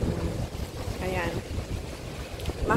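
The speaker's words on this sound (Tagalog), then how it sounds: "Mahangin pa rin. Kaya malamig." Wind gusting across an open rooftop in Hong Kong, a steady broadband rush buffeting the microphone throughout with a faint hint of distant city and water noise beneath.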